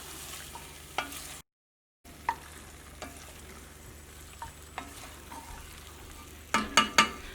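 Homemade wheat-flour pasta is stirred with masala in a pan over a soft, steady sizzle. A spoon scrapes and taps the pan several times, and a quick cluster of louder clinks comes near the end after a brief silent gap.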